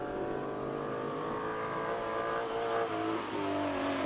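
A 1965 Shelby Daytona Coupe race car with a 5.7 litre engine pulls away from the line, its engine droning steadily and loudly with a slight rise in pitch as it moves off, no voices heard.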